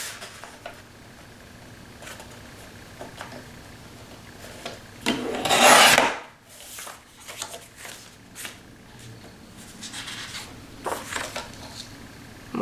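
Christmas card paper with holly printed on it being cut in half, a single loud rasping slice lasting about a second, close up, surrounded by quieter paper handling and rustling.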